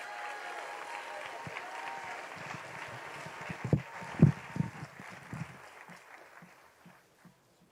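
Graduation ceremony attendees applaud at a moderate distance, the clapping fading out gradually with a few louder thumps and scattered claps near the end.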